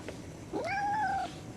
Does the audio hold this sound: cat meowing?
yes